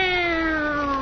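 A single drawn-out tomcat meow from a 1932 radio drama broadcast, loud and close, its pitch sliding slowly downward over about a second with no other sounds around it.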